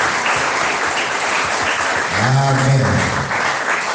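A church congregation applauds steadily for the full length, a dense, even wash of clapping, while a voice briefly speaks over it.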